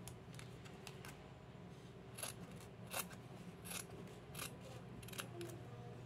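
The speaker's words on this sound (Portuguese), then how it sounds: "Depois que eu dobrar o meio, eu vou cortar ao meio." Scissors snip through folded paper, cutting a paper circle in half for a small doll's hat, with several crisp close cuts spaced irregularly over a quiet room hum.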